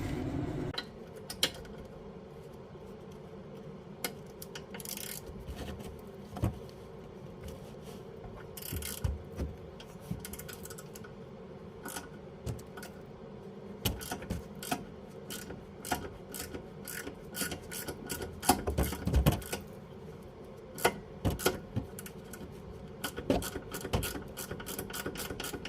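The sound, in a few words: ratchet loosening Toyota Camry rear brake bolt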